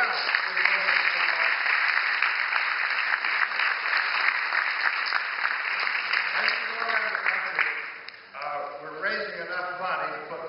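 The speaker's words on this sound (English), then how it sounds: "So give Robert a round of applause for 2012" Sustained applause from a large audience at an awards gala fills the room, fading near the end as a voice starts talking.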